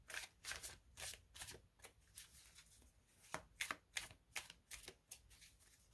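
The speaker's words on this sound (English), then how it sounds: "I am shuffling over here in case you can't see." A deck of cards is shuffled close by in a quiet room, a rapid run of crisp riffling bursts repeating in quick rhythm, alone without talk.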